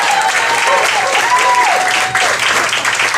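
A comedy club audience claps loudly for a stand-up comedian's wife, a close, dense and steady burst of applause with a faint voice briefly audible through it.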